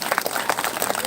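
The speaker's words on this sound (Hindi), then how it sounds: "जोरदार तालियां सोनू जी के लिए" Brief clapping from a school Independence Day audience after a dancer's performance, quick scattered claps under a faint voice, loud and close.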